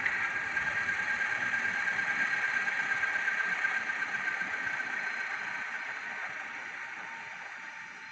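A Graham Farish Class 47/4 model diesel locomotive's DCC sound plays an engine shutdown, a thin steady idling hum with a high whine that gradually fades away, heard close through a small speaker.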